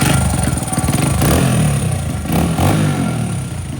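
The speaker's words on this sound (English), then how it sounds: "we've got this Sunken dirt bike running as good as new" A restored dirt bike, recovered after sinking underwater, runs steadily during a test ride, its mid-pitched engine buzzing loud and close with slight rises in revs and no voices over it.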